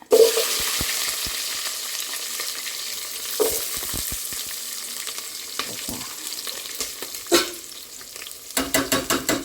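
Garlic cloves, cumin and mustard seeds tempering in hot oil, a steady crackling sizzle broken by sharp pops and stirring clatter, with a burst of rapid spattering at the end.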